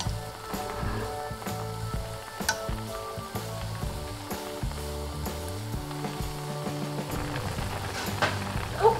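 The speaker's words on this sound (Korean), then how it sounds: "우르르 끓여주세요." A pot of rice noodle and rice cake soup with scallion, garlic and Cheongyang chili boils hard, giving a steady, busy bubbling and sizzling that runs continuously at moderate level with no voices.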